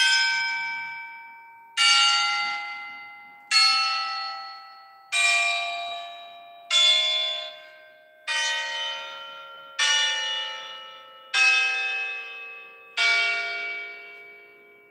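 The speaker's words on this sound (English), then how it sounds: "Let's test the 9 bell." Nine separate bell strikes in a Roblox game, each a bright clanging tone that rings out and decays before the next, spaced evenly about every two seconds with no talk.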